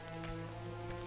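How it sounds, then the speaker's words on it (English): Steady rain falling in The Witcher 2 video game, a continuous even hiss with a low hum of game ambience beneath it, no talking. "Oh wow, it's raining."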